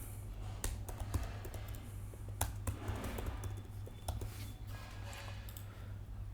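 Typing on a computer keyboard during Salesforce work, a handful of soft, scattered key taps and clicks over a low steady room hum, no talk.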